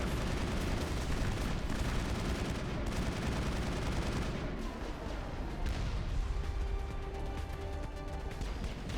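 Sustained heavy gunfire and explosive bursts in a Mass Effect firefight, dense continuous shooting throughout with crashing impacts and rapid automatic volleys, loud and close.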